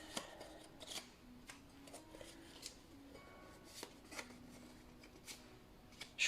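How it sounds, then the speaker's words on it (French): Fragile mini Tarot de Marseille cards handled and laid out, quiet close-up taps, slides and flicks of card stock scattered irregularly over a faint background, one louder rustle at the end. "je vais recouvrir avec les cartes du mini tarot de Marseille, qui sont très fragiles, mais très jolies"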